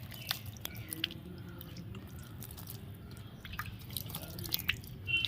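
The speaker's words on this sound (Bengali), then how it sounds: "এই যে এখন জল দিচ্ছে।" Water is poured onto the soil of a pot holding a freshly planted cutting on a rooftop, making faint, close dripping and soft wet trickles with small crackles, quiet throughout and without talk.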